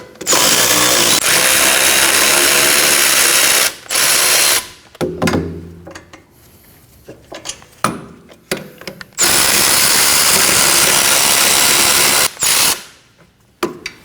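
A power tool, likely an impact wrench, removes brake caliper bracket bolts on a 2011-2016 Kia Optima rear brake, with loud sustained whirring bursts separated by quieter ratcheting rattles and clinks, close up with no talking.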